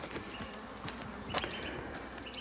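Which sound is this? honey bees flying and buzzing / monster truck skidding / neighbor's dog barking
honey bees flying and buzzing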